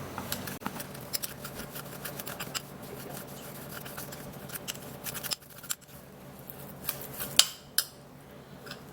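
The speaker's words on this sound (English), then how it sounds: "So I'm going to mix it dry a little first." Utensil stirring dry mashed potato in a bowl, giving a soft, continuous scraping and rustling close by, with a few sharper clinks near the end and no talking.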